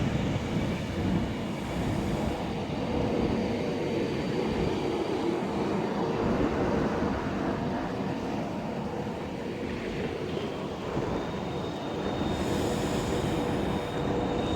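A Virgin Class 390 Pendolino electric train, unit 390118, rolls through Stockport on the West Coast Main Line Manchester branch, a steady, continuous rumble of wheels and carriages held at even loudness throughout, with no voices.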